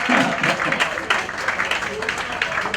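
Loud audience applause at a World Blood Donor Day event, dense clapping from a crowd with swells and dips, close and full, with voices mixed in.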